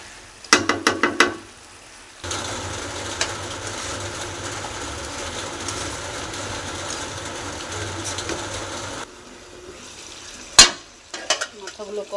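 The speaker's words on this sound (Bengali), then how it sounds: "মাথাগুলোকে দিয়ে ভালো করে কষিয়ে নিব," Fish heads sautéed and stirred in a pan, a steady sizzle running through the middle stretch, framed by sharp clanks and knocks of utensils before and after.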